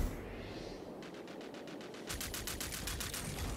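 Rapid automatic gunfire from the video game Rogue Company rattles in two quick bursts, the second louder and nearer, over a low rumbling background with no voices.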